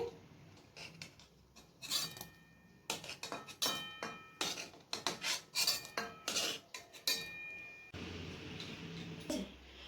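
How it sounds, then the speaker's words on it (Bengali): Boiled soybean chunks are spooned from a pan onto a plate in a home kitchen. Close, irregular metallic clinks and scrapes of a utensil against the dishware come in quick clusters, with a short pause partway through. "এরপর আমি প্লেটে তুলে নিচ্ছি।"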